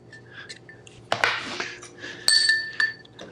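A glass container clinks and scrapes sharply as chipotle pepper marinade is scraped out of it, with a few bright rings among quieter handling sounds.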